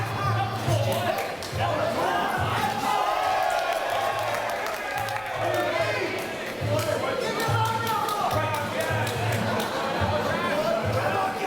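A crowd at a Domination fight show in Perth cheers and chatters in a large venue, a rolling mass of voices with bursts of applause, while a commentator talks over it.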